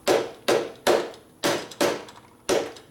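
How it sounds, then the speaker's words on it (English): Six sharp hammer taps on the cam cover of a 1957 Harley-Davidson panhead engine, spaced roughly half a second apart, close and loud with no talking. "Tap with a hammer."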